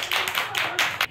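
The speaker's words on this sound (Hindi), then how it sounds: "सब लोग ताली बजाइए।" A small group of children and adults claps during a home party game, several quick bursts of applause in a row, close and fairly loud, with no talking over it.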